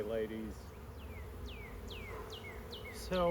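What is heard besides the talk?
bees swarming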